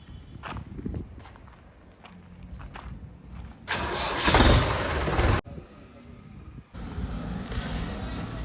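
A secondhand Mahindra tractor engine cranks and catches in bursts, quieter shuffling giving way to a loud rough rumble, a brief cut-off, then the engine roaring back close by.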